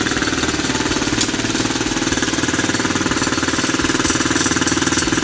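An Odes Rider 8-125cc ATV engine running after starting, a loud, close, rapid and even mechanical rattle that stays steady throughout with no talking.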